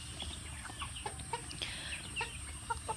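Farm-breed laying hens cluck in short, scattered calls over a steady background hum, several birds chirping and clucking close by with no talking.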